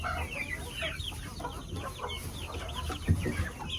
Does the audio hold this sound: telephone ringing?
no